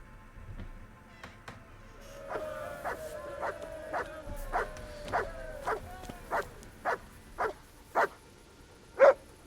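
A dog barks repeatedly in the medieval game Kingdom Come: Deliverance, a steady run of about a dozen sharp, fairly close barks with a louder final bark, and no talk over them.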